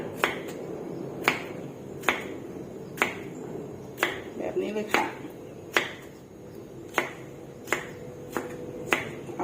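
A knife chops pumpkin sharply on a board, about a dozen crisp strokes at a steady, unhurried pace, with a brief rustle midway.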